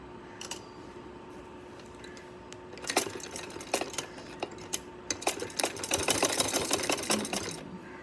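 A sewing machine stitches a suit, starting with faint taps and then breaking into bursts of rapid, close mechanical clatter in the second half.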